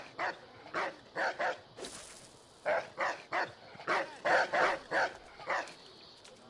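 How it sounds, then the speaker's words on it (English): A dog barks in the Assassin's Creed III Remastered game: a quick run of short, sharp barks and yips at mid distance, in bursts over about six seconds, with no one talking. "Saying that, I can hear barking."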